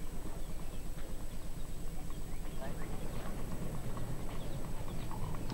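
Horse hooves at a show jumping event at CSIO Rome, a steady clip-clop of strides running through the whole stretch, mid-distance under arena crowd noise and commentary.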